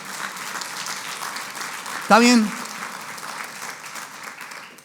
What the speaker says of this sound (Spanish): si va a aplaudir, aplauda fuerte.